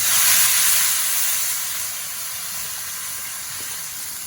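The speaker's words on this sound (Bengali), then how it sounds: "এরপর আমি পরিমাণ মতো জল দিয়ে দিচ্ছি।" Water poured into a hot pan of Gobindo bhog rice khichuri sets off a loud, close burst of steam hiss and sizzle that eases down to a steadier, softer hiss.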